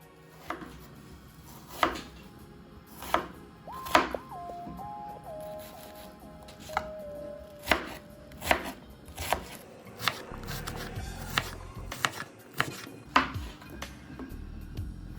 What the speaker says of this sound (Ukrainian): Далі цибуля, але її ми нарізаємо меншим кубиком.